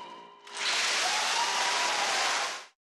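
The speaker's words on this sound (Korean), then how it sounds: "차분하기로 유명한 일본 관객들조차 뜨거운 박수와 환호로 화답했습니다" A concert audience in Japan bursts into warm applause after a Korean-Japanese chamber performance, a dense wash of clapping that swells quickly, holds steady for about two seconds, then cuts off.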